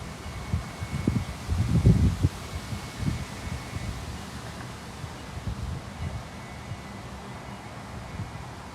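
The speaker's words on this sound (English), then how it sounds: "Apologies if there's any major background noise as we have a lot of wind today." Steady low rumble of wind buffeting a microphone outdoors at a women's singles pickleball semifinal, with stronger gusts early on and a constant broadband hiss throughout.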